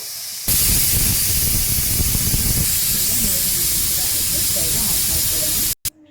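A pressure cooker whistle, cooking a dal for sambar, blasts steadily with loud, rushing steam for several seconds, close by, then cuts off abruptly.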